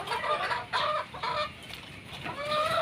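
Gamefarm chickens cluck repeatedly at close range in the rain on a farm, with bursts of fowl calls rising over steady background noise.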